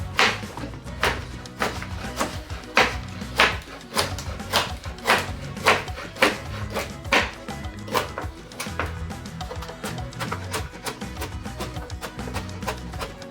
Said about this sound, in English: Now I'm going to cut the cassava into smaller pieces so my blender can handle it.